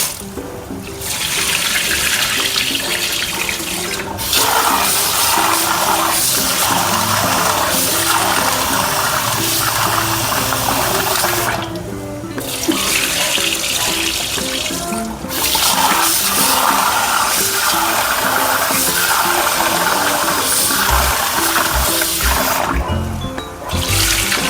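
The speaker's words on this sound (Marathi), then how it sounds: "आता आपण हे 2-3 पाण्याने स्वच्छ धुवून घेणार आहे." Lentils are rinsed in water, with long stretches of loud, close running and sloshing water broken by brief quiet pauses between rinses, and no talking.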